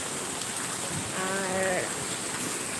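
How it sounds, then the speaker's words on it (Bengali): Heavy rain pours outside in a continuous, dense hiss, loud and unbroken, with a brief murmur of speech partway through. "বাইরে তো প্রচণ্ড বৃষ্টি দেখতেই পাচ্ছেন"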